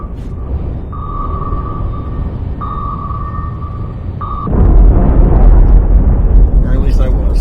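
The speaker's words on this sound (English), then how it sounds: "But finally, it runs out of fuel and explodes" A submarine torpedo in the naval warfare game Cold Waters runs out of fuel and explodes, bursting into a loud, sustained rumble after a stretch of repeating sonar pings over a constant low drone.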